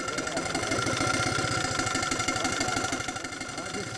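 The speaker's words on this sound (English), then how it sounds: "I'll give it throttle, and I'll make it work, and I want to watch the governor." The engine of a model Case wheat thresher runs under throttle with a steady, rapid knocking chug, loud and close throughout and easing slightly toward the end.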